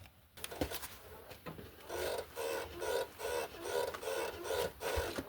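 The rear suspension of a lifted 2002 Chevrolet Suburban LT creaks and rubs under pressure, repeated about six times in steady pulses, close up with no talking.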